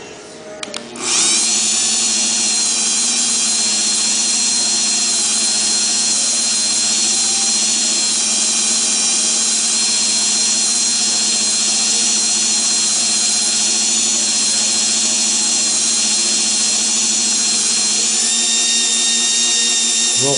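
Axles being polished with a rotary tool, a loud, steady high-pitched whine that starts abruptly and runs continuously without a break.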